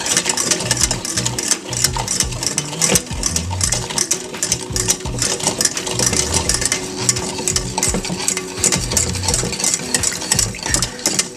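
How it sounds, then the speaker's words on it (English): A whisk scrapes and clinks steadily inside a pot of hot cocoa mixture with melting sugar, the stirring loud, busy and continuous throughout, with no talking. "So you just keep whisking it until it gets like all the sugar melted, all the hot cocoa melted"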